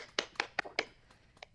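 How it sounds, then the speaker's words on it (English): A short burst of hand clapping over a video call: four or five quick, evenly spaced claps followed by a softer, later one, close and fairly quiet. "Let's give them a round of applause."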